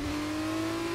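Formula 2 car in F1 23 on the France circuit, a steady engine tone holding near-constant pitch with a faint hiss, likely rear tyres locking under heavy braking, close and continuous with no talk.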